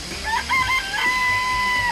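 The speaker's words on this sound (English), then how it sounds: "I remember there were some chickens in the chicken coop." Chickens in a coop in the Danganronpa video game, clucking with a drawn-out crowing call over a steady noisy background.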